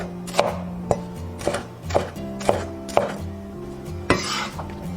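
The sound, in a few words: knife chopping celery and green and red peppers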